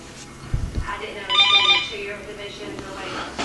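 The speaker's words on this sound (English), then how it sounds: "let's shut that phone off" A telephone rings indoors with a short bright trilling burst, partly under someone talking nearby who continues speaking around it.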